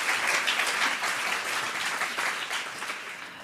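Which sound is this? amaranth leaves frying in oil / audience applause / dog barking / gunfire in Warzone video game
audience applause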